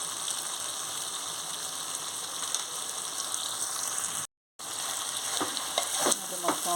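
Gongura chicken spiced with green chillies and coriander powder fries in a pan while being stirred, giving a constant close sizzle with scraping and clinking from the stirring and a short silent break midway.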